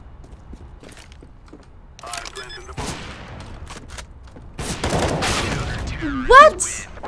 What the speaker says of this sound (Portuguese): eu assustei-me com o tiro do gajo, pensava que ele estava close e falhou-me o tiro